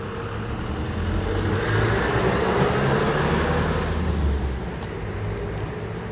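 A Tesla Model 3 SR+ creeps along on its own under Smart Summon, heard from some distance as a steady, low rolling drone of tyres and motor blended with outdoor background noise, with no voices.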